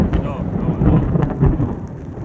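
Heavy monsoon downpour with rolling thunder during the season's first rain, a dense, loud roar of rain with rumbling bursts throughout and no speech.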